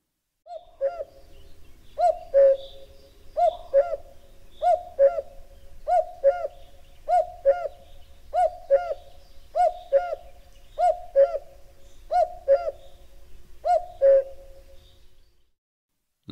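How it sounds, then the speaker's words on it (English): A cuckoo in the Orkney Islands repeats its two-note call about a dozen times at an even, steady pace, clear and fairly close, over a faint low rumble and with no talking. "Cuckoo"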